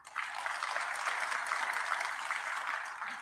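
Steady applause from an audience at a university charter award ceremony at State House, Nairobi, a sustained moderate-level patter of many hands clapping for about three seconds, with no voices over it.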